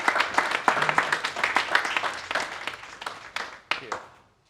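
An audience at an aviation forum applauds, a steady patter of many clapping hands that thins out over a few seconds, close and moderately loud.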